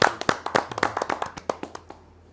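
A short burst of hand clapping at a Hindi poetry recital, a fairly small group applauding in quick irregular claps that fade out after a couple of seconds.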